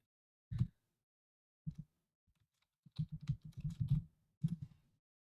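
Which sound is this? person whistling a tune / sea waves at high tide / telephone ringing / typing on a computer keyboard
typing on a computer keyboard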